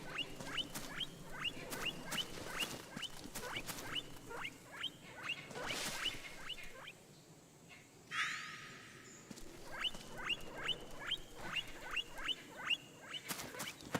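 A guinea pig in Metal Gear Solid 4 squeaks in quick, high chirping runs, over and over, with a brief whooshing sweep partway through and quiet game ambience underneath.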